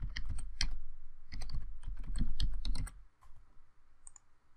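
Keystrokes on a computer keyboard while a website address is entered, a quick run of close, crisp clicks for about three seconds, then a few quieter scattered taps.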